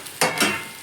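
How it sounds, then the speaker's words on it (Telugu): Chopped okra tipped into a hot oiled pan and stirred, giving two quick close sizzling, scraping bursts before the noise settles, with no voices. "పక్కనే తరిగి పెట్టుకున్న బెండకాయలు వేసుకొని ఇట్లా బాగా మిక్స్ చేసుకోవాలి."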